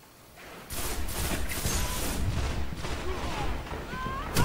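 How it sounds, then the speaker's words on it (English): Hand cannon gunfire in the Destiny shooter video game, a string of loud, sharp reports with echoing booms packed together after a quiet start. "It's a hand cannon again."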